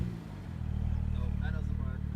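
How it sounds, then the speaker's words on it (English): BMW car stuck in snow with its exhaust droning and revving, a steady low rumble that swells after a brief dip and holds loud and close, with voices talking over it. "your exhaust sounds great"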